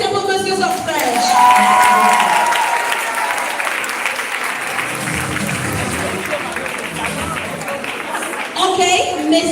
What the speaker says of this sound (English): Applaudissez pour Monsieur Sofresh.